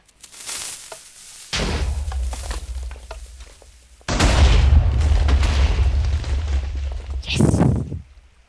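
Ship cannons fire in a pirate-themed naval battle video game, producing three loud, rumbling booms whose blasts roll on and overlap, with the last one sharp and short.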